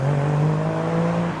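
A Nissan Skyline R34, parked at a modified-car meet, holds its engine at a steady high rev, a loud, sustained drone that stays level and close throughout.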